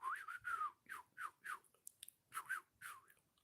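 A person whistles a series of short, rising and falling chirps in an uneven rhythm, imitating animal calls to attract prey, close and soft with brief clicks between notes.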